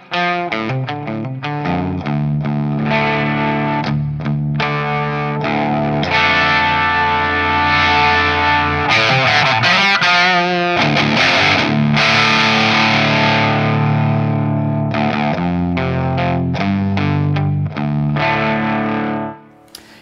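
A Schecter electric guitar plays through heavy distortion with its volume rolled back slightly, producing loud, sustained crunchy chords and palm-muted chugs with brief pauses, ringing on to the end.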